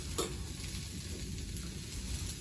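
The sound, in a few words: tortilla chips sautéing with pepper, onion and garlic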